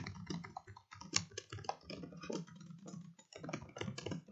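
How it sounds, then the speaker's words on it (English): Rapid clicking of keys on a computer keyboard, steady and close, with irregular bursts of typing and brief pauses. "clicking and typing."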